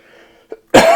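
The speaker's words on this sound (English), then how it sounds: "Still got that lingering cough" A short throat-clearing hitch followed by a sharp, loud, close cough from a person with a lingering cough and tickle in the throat.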